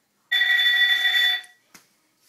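A talking alarm clock sounds its third alarm tone: a steady, bright electronic ring lasting about a second, near and loud, followed by a faint click.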